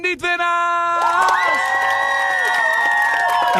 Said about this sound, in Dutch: En een keihard applaus voor alle winnaars en niet-winnaars.